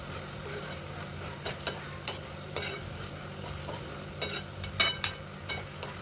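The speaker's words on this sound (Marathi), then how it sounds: "नंतर आपण उकडलेली मटकी त्याच्यामध्ये घालून परतून घ्यायची आहे. छानपैकी परतून घ्यावी." Boiled moth beans (matki) are sautéed in a pan, with a spatula knocking and scraping in an irregular series of sharp clicks over a quiet background sizzle.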